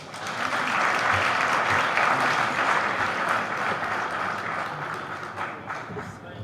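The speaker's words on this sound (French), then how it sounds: "On nous applaudit une autre fois encore Madame Bateau qui était avec nous." Sustained audience applause at a public gathering, a steady dense wash of many hands clapping that fades slightly toward the end.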